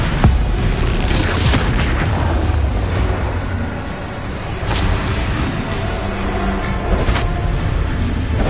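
Confringo fire-blast spell cast in the game Hogwarts Legacy: a dense, loud run of booming explosions over about eight seconds, with rumbling battle noise throughout and only a brief dip midway.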